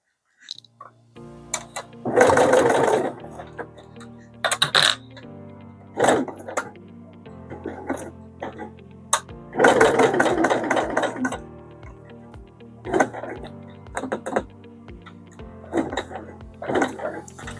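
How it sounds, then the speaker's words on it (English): A sewing machine stitches piping onto fabric in bursts of rapid mechanical whirring, with steady hum and clicking between runs and short pauses as the fabric is adjusted, close and moderately loud. "You can see that the needle goes down right next to the piping."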